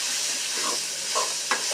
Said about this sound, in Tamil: அவ்வளோ வெங்காயத்தையும் போட்டுட்டு அப்படியே கிண்டுங்க.